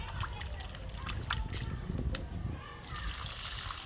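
Rice is washed by hand in water during backyard Jamaican cooking: faint sloshing and trickling of water, soft and close, with some low background noise.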